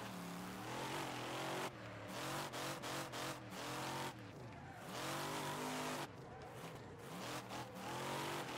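A car drifts in the racing game Wreckfest with a drift mod: a revving engine roars near and loud while tires squeal and screech through long slides, with the throttle cutting and surging repeatedly.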